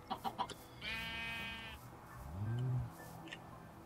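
Sheep bleat in Minecraft: a few soft clucks at first, then a wavering bleat followed by a lower, louder one, with no talk.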